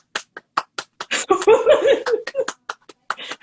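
Sharp, separate hand claps ring out in short bursts at close range, mixed with laughter and a few voices talking in the middle of the run.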